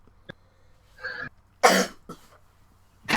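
A sharp, explosive sneeze bursts out at close range, preceded by a short inhale and followed by a quick second burst, with quiet room tone between.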